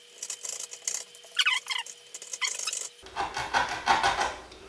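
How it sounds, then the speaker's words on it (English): Thin flush cut saw trimming protruding wooden dowels level with a cabinet door surface, a close rasping scrape that comes in short strokes and then turns to steady rough sawing. "I've got a flush cut saw, it's just a really thin saw, and a chisel."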